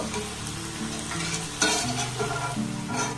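Small jalebi spirals frying in hot oil, a dense, steady sizzle with a sharp clink of a utensil partway through, close and fairly loud, no voices.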